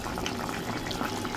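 A meat and potato curry boils in a pot with a steady, dense bubbling and gurgling that stays close and continuous throughout.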